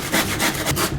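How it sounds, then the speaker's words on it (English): A hand saw rasps through wood in quick, rhythmic back-and-forth strokes, close and fairly loud, with no voices. "And now back to sawing."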